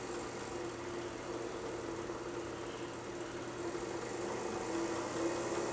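A watchmaker lathe motor runs at 3,000 RPM with a steady, low mechanical hum and faint whine, continuous and fairly quiet throughout, with no speech.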